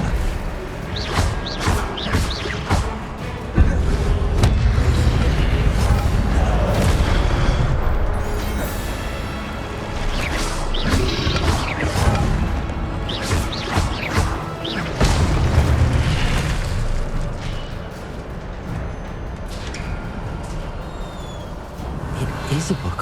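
Incendio fire spell blasts in Hogwarts Legacy, repeated booming whooshes and crashes across a dense, loud game soundscape, with a voice talking at times.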